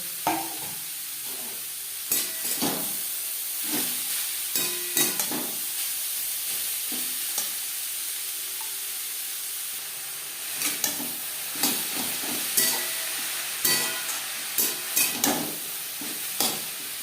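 Grated carrot fries in a spoonful of ghee in a wok over a medium-high flame, giving a steady close sizzle broken by irregular bursts of spatula stirring and scraping, with no voices.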